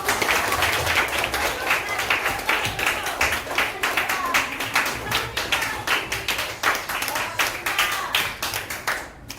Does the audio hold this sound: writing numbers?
no